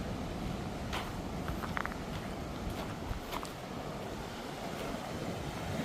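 Ocean waves wash against the shore below Rajkot fort in Malvan, a soft continuous surf rumble mixed with wind buffeting the microphone and a few faint footsteps or clicks, distant and fairly quiet with no talk.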